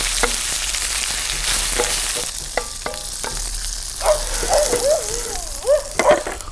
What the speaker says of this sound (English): We're just roasting everything so we can give it a nice roasty flavor.